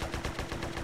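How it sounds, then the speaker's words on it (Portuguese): Rapid gunfire from the multiplayer game SA-MP crackles in quick succession, a burst of roughly seven or eight sharp shots in under a second, loud and close. "me deu dois tiros certeiros"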